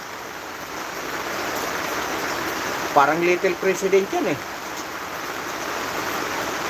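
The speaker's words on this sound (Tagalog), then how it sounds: "Pasensya na kayo, maingay, umuulan." Rain drumming on a tarpaulin roof, a steady broadband wash of patter running through the whole stretch, with a voice briefly talking over it in the middle.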